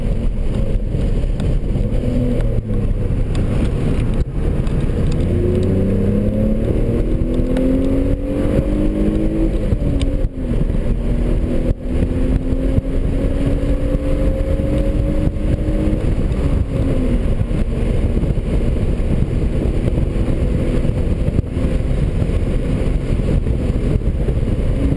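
A car engine pulls hard under throttle on the Laguna Seca circuit during an HPDE track day, its loud, steady drone rising and falling in pitch through gear changes, heard close from inside the car with no talking.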